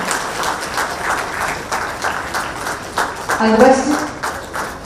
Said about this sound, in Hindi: जोरदार तालियां स्वागत स्वरूप जरूर हो